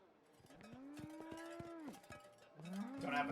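A yak lowing in the Phoenix Wright: Ace Attorney - Spirit of Justice game, two drawn-out tonal moos, the second rising and ending in a short bellow, with a cowbell-like clank near the end, clear and close without talk.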